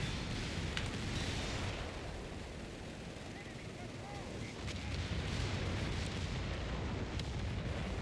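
Artillery barrages in the Company of Heroes 3 game, a 4v4 match on Oasis Depot, roll on as dense, continuous rumbling booms and bursts at moderate loudness without a break.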